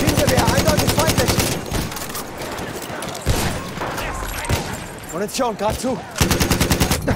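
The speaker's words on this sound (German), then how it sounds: "Maschinengewehr, eindeutig feindlich!" Enemy machine gun fire on the Amiens map in Battlefield 1, rapid loud bursts at the start and end with scattered shots and battle noise between, under shouted soldier voices.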